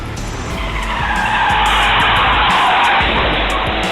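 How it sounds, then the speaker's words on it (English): A truck loses control while cornering and skids, tires squealing loudly and continuously against road noise before hitting an oncoming car head-on, with no talk. "The truck loses control while cornering and hits an oncoming car head-on."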